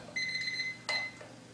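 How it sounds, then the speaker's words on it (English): A count up/down laboratory timer sounds its high-pitched electronic alarm: a steady beeping tone with a short burst, then a second sharper beep, close and clear with no talking. "The timer will count down to zero, at which point a high frequency alarm will sound."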